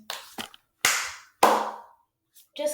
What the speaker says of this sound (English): Just clapping my hands.